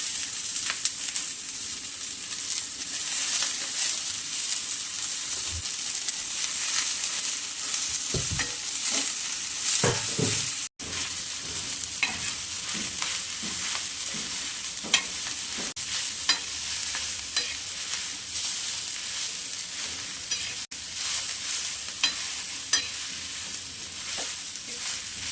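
Fenugreek leaves frying in a pan over sautéed garlic, onion, cumin and chilli, a steady close sizzle with scraping stirs throughout, a few louder spatula knocks near the middle, no talking.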